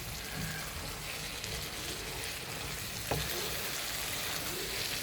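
Liver roast sizzling and frying in a pan on low heat, a steady close crackle with a brief scrape of stirring partway through, no talking.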